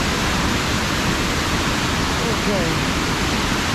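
Water rushes out through the stone archways of a large masonry arch dam, a loud, steady broadband roar filling the scene, with a voice briefly speaking over it.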